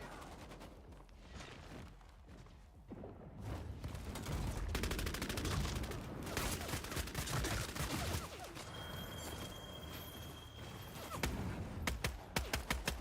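Rapid bursts of gunfire crackle through a Bloodhunt video game match, dense and fairly loud, with shots layered over each other and no talking.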